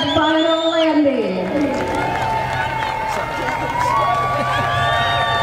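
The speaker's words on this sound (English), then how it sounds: "Let's cheer him on as he makes that final landing." A crowd at Atlanta Motor Speedway cheers a skydiver's final landing, with a steady wash of cheering and chatter, whistles and scattered clapping, while a loud voice talks over it.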